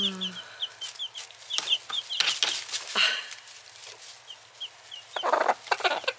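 Hens and chicks in a backyard coop: a hen clucks repeatedly while small chicks peep high and steady, with scratching and flapping bursts close by.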